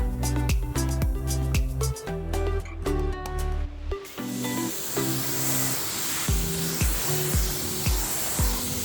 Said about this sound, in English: Using the 3D ceramic detailer this time. A couple sprays, and then we'll rinse it off.